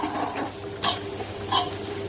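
Spiced kachori stuffing with amchur powder and sugar being stirred and mixed in a pan, a soft continuous scraping with two sharper clinks of the spoon, close and alone.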